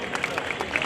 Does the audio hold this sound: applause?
yes